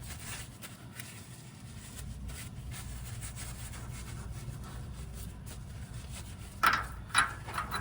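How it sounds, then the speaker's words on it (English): Debris and road grime are scrubbed off a shock stud on a 2025 Kenworth W900 truck, producing soft, close rubbing strokes that build into a few sharper scraping bursts near the end. "go ahead and clean off your stud, get any debris, road grime off of there"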